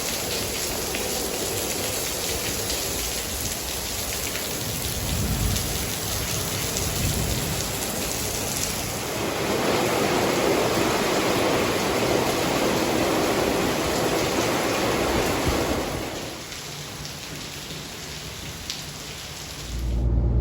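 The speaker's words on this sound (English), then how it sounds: "the rain's eased up now" Heavy rain falls steadily as a dense hiss on surfaces nearby, swelling louder midway then easing back to a softer patter toward the end.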